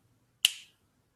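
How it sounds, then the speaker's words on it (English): A single sharp finger snap, crisp and close, with a quick decay into silence. "Snap your fingers."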